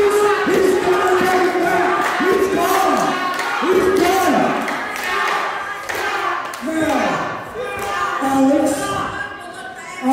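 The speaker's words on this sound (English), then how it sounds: "They're chanting for Scott Diamond" A wrestling crowd chanting for Scott Diamond, rhythmic chant syllables repeating from a large audience with thuds beneath, loud and continuous throughout.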